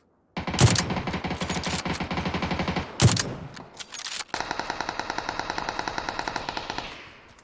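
Rapid automatic gunfire from the battle royale game PUBG on the Miramar map, loud and close in long sustained bursts, with a brief pause and a fresh volley, heard alone without talk.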